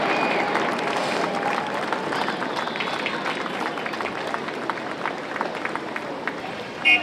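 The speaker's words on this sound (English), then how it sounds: "Let's get a big round of applause for Spirit of 45." A crowd applauds at the 99th annual Veterans Day parade in downtown San Jose, with scattered clapping and street bustle and an announcer talking over it.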